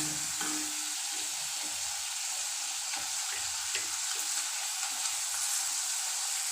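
Pieces of tapioca frying in hot oil while being stirred, a steady dense sizzle with soft scraping stir noises running throughout, close up and without speech.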